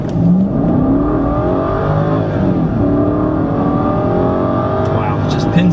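A BMW 550i Sport's deep V8 engine revs and accelerates hard in first gear and sport mode, its pitch climbing and dropping with gear changes, loud and close, with a voice talking over it.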